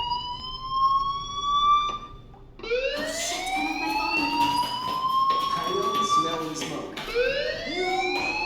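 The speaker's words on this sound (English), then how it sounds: "Hey, do you hear that fire alarm?" A fire alarm wails in the video game Life Is Strange, a rising and falling siren tone that stops briefly and then starts again in repeated upward sweeps, loud and steady over a background hum.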